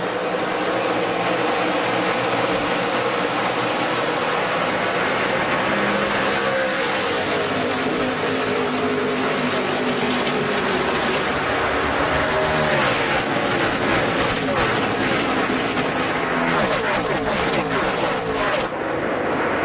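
NASCAR Nationwide Series stock cars roar away at the green flag of the 2011 STP 300. The dense, loud engine roar from the pack swells and surges continuously as the cars accelerate past.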